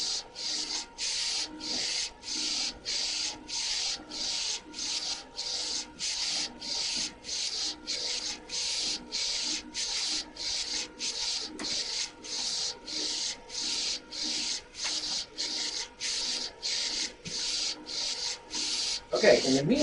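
A DTG printer prints on a pant leg, its print head sweeping back and forth in a steady, regular rasping shuttle about every second for nearly twenty seconds, close and continuous with no talk.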